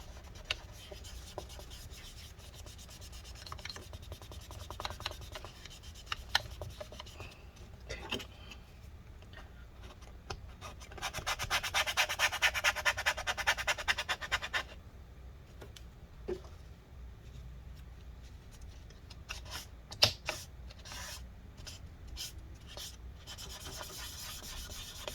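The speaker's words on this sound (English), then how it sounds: "hopefully we can wipe off all the residue with this one" Paper towel wipes adhesive residue off a 2015 13-inch MacBook Pro A1502 during a battery replacement, with close, intermittent rubbing and scraping strokes and a sustained stretch of harder rubbing midway.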